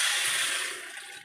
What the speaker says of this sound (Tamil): இது வேகிறதுக்கு ஒரு கிளாஸ் தண்ணி ஊற்றிக்கலாம்.